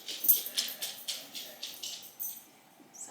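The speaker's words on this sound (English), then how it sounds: "Sorry about all the dog noise today." Dogs make noise inside a house where a mat Pilates workout is being filmed. A run of quick, soft, high whines or yips repeats at an uneven pace, fairly faint, with no clear speech.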